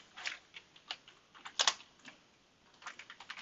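Typing C++ code on a computer keyboard: quick, close key clicks in short irregular bursts, with a sharper double clack near the middle, heard alone in a quiet room.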